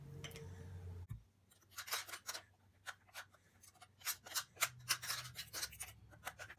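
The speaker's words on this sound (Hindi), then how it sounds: "हम इसको पीस लेंगे।" Ingredients for a whitening night cream being ground into powder, a close scraping, crunching rhythm of short rasping strokes after a brief quiet start, moderately faint.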